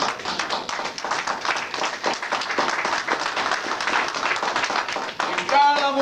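A church congregation breaks into brisk, close applause, many hands clapping unevenly for several seconds before a voice begins to speak at the end.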